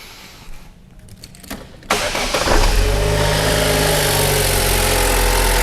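A Barina 1.6 petrol car with a thermostat fault cranks briefly with a few faint clicks, then catches and settles into a loud, steady idle, heard close by.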